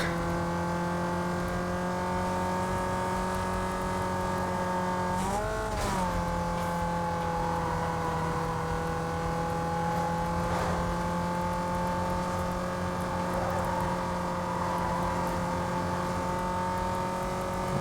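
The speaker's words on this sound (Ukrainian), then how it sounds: "Двигун прям гуде." A car engine in the video game Need For Speed Most Wanted drones loudly and continuously, its pitch dipping and rising once as it shifts and accelerates, steady and close.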